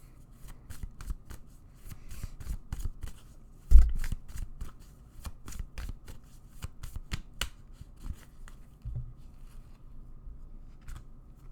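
A tarot deck shuffled by hand during a reading, a quick, close run of crisp riffling card flicks repeating steadily, with one louder slap partway through.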